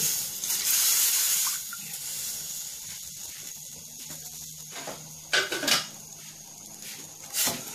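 Water runs and splashes into a pot nearby while cooking catfish curry with glass noodles, followed by quieter stretches and a few clanks of metal cookware.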